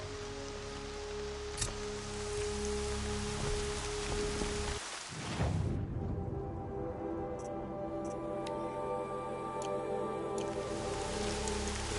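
Steady rain falls throughout an outdoor scene in the video game Horizon Zero Dawn. A dense, continuous hiss of drops is heard alone, with a brief dip and swell near the middle and a few faint tones in the game ambience.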